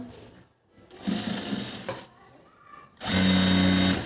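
A sewing machine whirs in short bursts, stopping and starting, then runs loudly and steadily at the end with a close mechanical drone.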